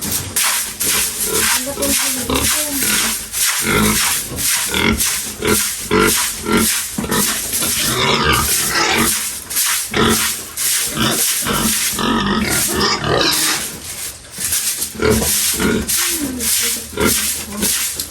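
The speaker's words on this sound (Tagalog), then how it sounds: "meron din kaming native na baboy" Native pigs on a farm grunt repeatedly in loud, close, rhythmic bursts that continue throughout with brief pauses between them.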